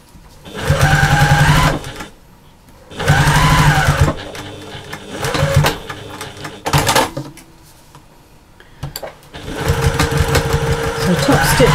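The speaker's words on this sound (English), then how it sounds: "So top stitching both sides. I'm doing a little tiny back stitch just to finish them off." A domestic sewing machine top stitches a slouchy fabric bag, loud and close, whirring in several bursts of a couple of seconds each with short pauses between, ending in a little back stitch.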